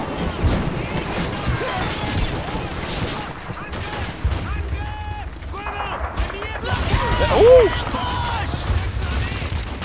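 Handgun fire in Call of Duty 2 mixes with dense battlefield noise: shots, crashes and distant bursts. Someone talks and exclaims over the gunfire.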